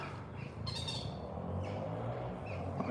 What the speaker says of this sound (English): can hear a bunch of birds. They're all in that big tree.